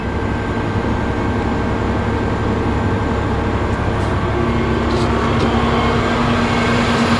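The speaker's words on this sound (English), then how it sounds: "I don't know if you could hear that or not, but the compressor's actually running right now." An air compressor runs steadily on an air and light fire truck, a loud continuous mechanical drone with low engine hum and a steady tone, no speech over it.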